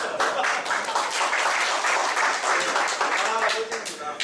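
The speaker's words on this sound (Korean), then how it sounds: "박수 한번 드리겠습니다. 박수." Applause from a lecture-hall audience at a university stock-investing course fills the room with dense, sustained clapping for a few seconds, fading slightly at the end.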